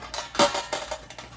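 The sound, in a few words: bread turned out of bread machine pan onto a pan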